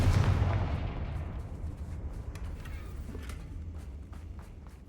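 A Confringo fire spell goes off in Hogwarts Legacy with a booming blast at the start. A long rumbling decay and crackle follows, fading slowly, with scattered faint clicks in the tail.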